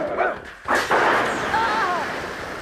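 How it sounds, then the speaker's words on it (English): A plasma rifle fires in a Batman Beyond cartoon scene, producing loud, booming energy blasts with a sustained, whining ring that trails off over roughly two seconds. "there's this part, the plasma rifle display"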